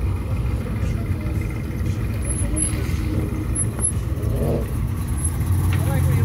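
A Chevrolet Camaro drives past at a car show, its engine a steady, loud rumble mixed with crowd noise and nearby voices.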